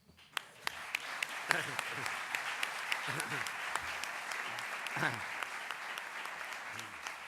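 Audience applause at a legal conference, distinct individual claps ringing out at a fairly steady rhythm while a voice speaks over them.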